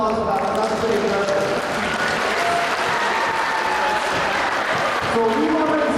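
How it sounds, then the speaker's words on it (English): Students at a school fundraiser assembly give a full round of applause, dense and steady throughout, with voices mixed into the crowd noise. "give yourselves a round of applause for that"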